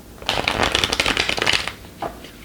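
A deck of sturdy, non-glossy tarot cards being shuffled by hand: a dense run of crisp riffling and card flutter lasting just over a second, then a short soft flick near the end.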